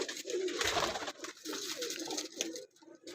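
Breeder and flying pigeons cooing in a loft in Faisalabad, Pakistan, soft throaty coos repeating in close succession, fairly near and gentle, with no voices over them.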